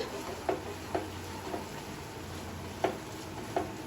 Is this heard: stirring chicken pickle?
yes